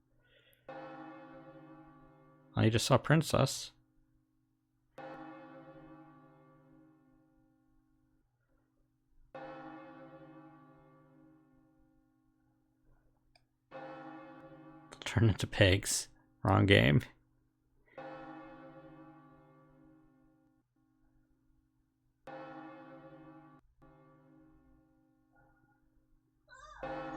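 A bell tower in the video game Another Code tolls repeatedly, each strike ringing out and decaying slowly, with bursts of a voice talking between some of the rings.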